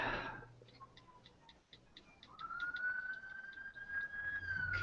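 A siren wails as a long, steady rising tone, with a faint regular ticking running beneath it throughout.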